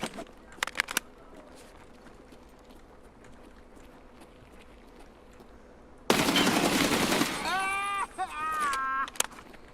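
Gunfire in Escape from Tarkov: a couple of sharp shots early, then a loud sustained burst of automatic fire later, with quieter background ambience between.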